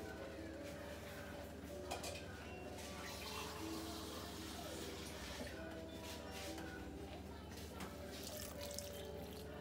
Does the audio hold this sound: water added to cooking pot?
yes